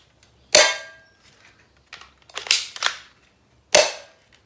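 An M43 Gilboa gel ball blaster being loaded as its slide is pulled back, giving three sharp, close mechanical clacks spaced irregularly over a few seconds, with quiet between them.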